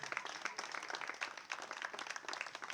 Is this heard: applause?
yes